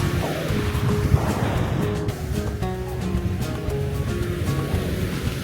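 Surf washing onto the beach at Nha Trang, Vietnam, where the water is somewhat murky, makes a steady, close, continuous roar with no break and no talking.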